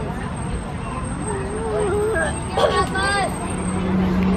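A crowded bus stop at Walt Disney World, busy with a dense hubbub of many overlapping voices, a bus engine idling nearby and brief brake hiss, loud and close throughout.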